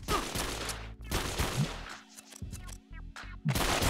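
Rapid gunfire bursts in the video game 50 Cent: Bulletproof, loud clustered shots separated by short pauses, with a voice talking between them.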